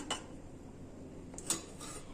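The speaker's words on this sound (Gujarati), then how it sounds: "હવે આપણે આવી રીતના પેનમાં ઘી લઈ લેશું." Ghee is spooned into a cooking pan before frying cashews and paneer, giving a few faint metallic clinks of a utensil against the pan, separated by quiet gaps, with no voices.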